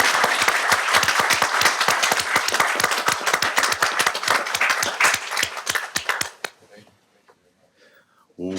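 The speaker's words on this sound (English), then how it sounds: "let's give him a round of applause, please." A room at a school board meeting breaks into a round of applause welcoming a new board member, steady clapping from many hands for several seconds before it dies away and a voice starts to speak.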